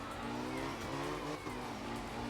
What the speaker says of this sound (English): I just went to slide it into the corner and the nose just straightened out and understeered into that tree